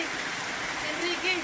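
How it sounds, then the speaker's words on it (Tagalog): Heavy rain pours down amid rushing river water in Negros Oriental, a dense, loud, continuous hiss with a faint voice murmuring underneath. "Sa gitna ng malakas na buhos ng ulan at tragasan ng tubig sa ilog"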